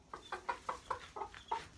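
Hens in a chicken coop cluck in a steady run of about seven short, evenly spaced calls, moderately close and fairly quiet, with no talking over them.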